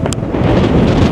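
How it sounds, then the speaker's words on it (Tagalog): Strong wind on an Arctic fjord roadtrip near Tromsø, Norway, a loud continuous roar buffeting the microphone for about a second, close and unbroken, no voices. "Yung lakas ng hangin."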